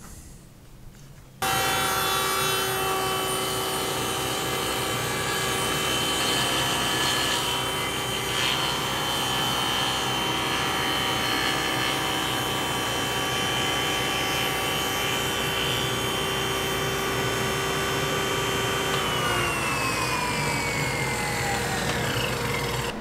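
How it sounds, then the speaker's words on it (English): A hollow chisel mortiser cuts mortises in walnut, a loud steady motor whine with a grinding, rubbing cut running continuously for about twenty seconds before the pitch drops as it winds down near the end. "I am cutting these mortises here, and this is a fancy machine that takes a round hole and makes it into a square hole"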